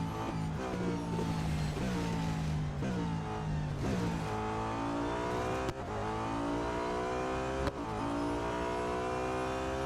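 An Audi A5 DTM race car from 2012 in Real Racing 3, its engine droning loudly and steadily with rising and falling revs through gear changes, with two brief dips as it shifts.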